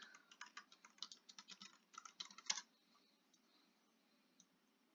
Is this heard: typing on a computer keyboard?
yes